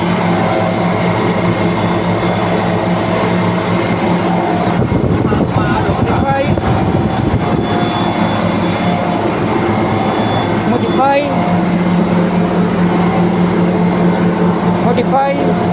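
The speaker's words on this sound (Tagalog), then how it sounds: "Small blast freezer running." A small blast freezer with a newly rewound, newly installed semi-hermetic compressor and replaced valve plate hums loudly and continuously nearby, with a steady mechanical drone and some airflow noise throughout.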